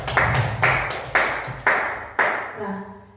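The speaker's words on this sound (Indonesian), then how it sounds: "Tepuk tangan untuk kita semua." A group in a classroom or workshop session bursts into several short rounds of applause, about five quick rhythmic waves of clapping close by.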